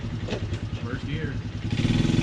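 A 1985 Honda TRX 125 ATV engine runs close by with a rough, throbbing putter that swells toward the end as the throttle opens.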